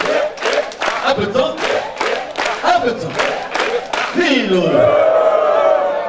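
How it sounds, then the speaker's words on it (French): A crowd at an exhortation gathering claps in a quick, regular rhythm while voices chant and call out loudly over the beat. The sound swells into a sustained cheer near the end. "Applaudissons."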